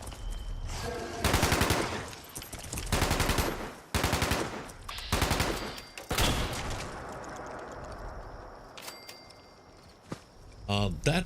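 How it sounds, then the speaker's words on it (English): Gunfire in the video game Fallout 76 comes as several loud, rapid bursts of shots separated by short pauses, with quieter in-game ambience and a few sharp reports near the end. "Four shots,"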